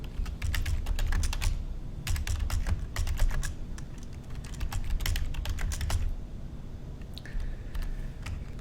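Code being typed on a computer keyboard: rapid, uneven bursts of close, crisp key clicks separated by short pauses, with a brief faint tone near the end.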